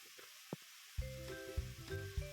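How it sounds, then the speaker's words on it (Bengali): Spice paste with salt and turmeric, loosened with a little water, fries in a pan for a Bengali katla fish curry. A quiet start gives way to a close, steady sizzle with a few soft stirring knocks. "লবণ হলুদ দিয়ে এখন ভালো করে মশলা কষিয়ে নিতে হবে"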